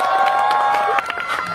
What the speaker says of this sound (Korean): 우리 승우한테 박수 한번 주세요 여러분들